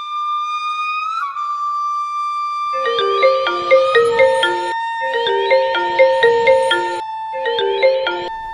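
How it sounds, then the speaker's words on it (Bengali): A mobile phone ringing on an outgoing call: a rising dial tone, then bursts of a bright chiming melodic ringtone repeated three times with short gaps, clear and close, no speech. "রিং হচ্ছে।"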